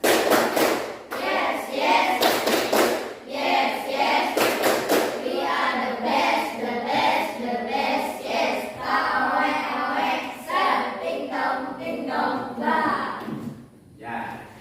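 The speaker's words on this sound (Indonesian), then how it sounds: "kita tepuk semangat dulu" Grade 6 elementary students perform the rhythmic 'tepuk semangat' clap in a classroom, with loud, sharp bursts of group clapping in set patterns and voices chanting along throughout.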